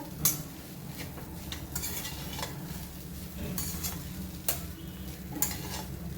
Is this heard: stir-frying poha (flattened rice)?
yes